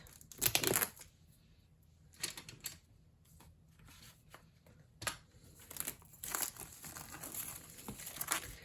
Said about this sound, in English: Let's go ahead and get it out of its packaging.